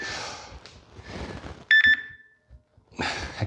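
A digital workout timer during a jump-rope and dumbbell leg session gives two short, bright beeps in quick succession amid faint background noise and movement.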